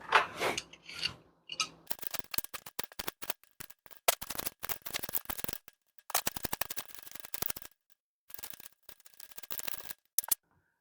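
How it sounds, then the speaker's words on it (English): Cucumbers are peeled in quick, scraping strokes, close and fairly quiet, with a run of rapid rasping bursts separated by short pauses and no talking. "let's start by peeling the cucumbers"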